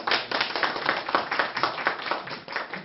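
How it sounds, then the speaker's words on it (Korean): An audience at a Korean book talk claps to welcome a poet, a moderately loud, steady burst of many hands clapping with no voices over it. "여러분 박수 한번 보내주시죠"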